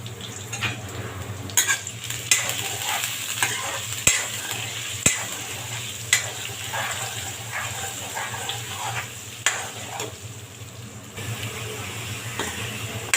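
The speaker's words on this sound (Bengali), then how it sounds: "আলুটা ভালো করে ভেজে নেব।" Potatoes frying in a pan with turmeric and salt, a low steady sizzle broken by repeated scraping, stirring clinks of a spoon against the pan at uneven intervals, close and moderately loud, without speech.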